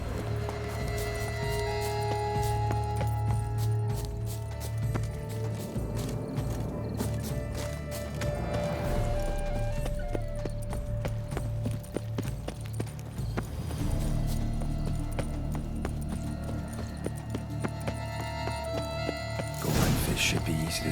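Horse hooves clip-clopping at a steady riding rhythm in The Witcher 3, running under game music and ambient sound, with a brief whinny and mechanical clatter mixed in and voices talking over parts of it.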